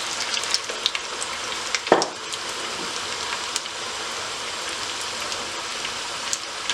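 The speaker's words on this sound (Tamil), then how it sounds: "நல்லா பொரிஞ்சு வரட்டும்." Paruppu vadai, flat lentil fritters, deep frying in hot oil over slightly above medium heat, giving a steady close sizzle and crackle with one sharper splash-like burst early on.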